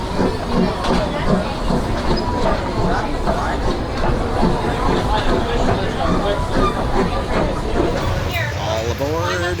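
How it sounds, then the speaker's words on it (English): Theme park train ride at Cedar Point amusement park in Sandusky, Ohio: a continuous loud rumble of rolling rail cars with clicking wheels, mixed with crowd babble throughout. "All aboard! It's time to take a train ride to the far end of the park."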